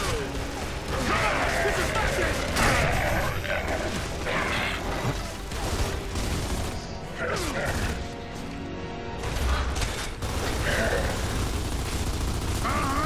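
Gears of War: Judgment firefight, loud repeated bursts of weapon fire with crashing impacts and mechanical clatter running throughout, with players talking over the shooting.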